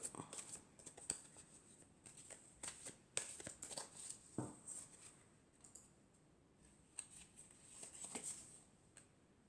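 Oracle cards are handled and drawn from a deck, giving faint soft shuffling, slipping and light clicking sounds with a few brief taps, heard quietly and close up.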